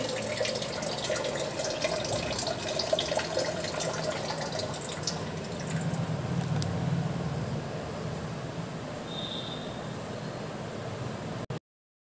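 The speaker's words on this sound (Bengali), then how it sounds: "আমি 1 বোতল জল আমি সম্পূর্ণই অ্যাকোরিয়ামে দিয়ে দিলাম" A full bottle of water pours steadily into a home fish aquarium, a continuous splashing trickle that runs for about eleven seconds and then stops abruptly into silence.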